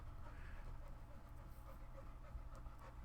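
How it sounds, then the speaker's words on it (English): A dog pants quietly and steadily nearby, a soft rhythmic breathing heard faintly through a microphone at low level. "Panting Dog"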